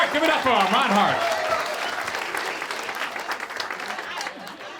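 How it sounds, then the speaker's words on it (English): Applause fills a comedy club at the Atlanta Punchline as a stand-up set ends, a crowd clapping steadily and fading slightly, with a host's voice calling out over the first moments. "Ron Hart, give it up for him, Ron Hart."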